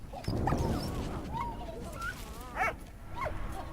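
A dog in the World War I video game Valiant Hearts barks softly and whimpers with short yips and whines, heard up close over a low, busy background rumble.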